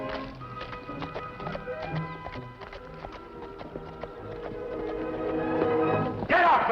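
Horse hooves on a dirt trail in a 1955 Western TV episode, a rhythmic clip-clop drawing nearer over background music and growing louder toward the end.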